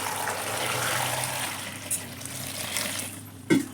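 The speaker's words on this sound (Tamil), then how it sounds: "தண்ணி ஊற்றிக்கலாம்." Water pours steadily with a soft rushing hiss while washing destemmed brinjals, ending in a brief splash and clatter near the close.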